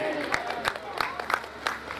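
A crowd at a revival meeting in Pakistan claps in a steady, rhythmic beat of sharp claps about three per second, while a preacher's voice carries over it.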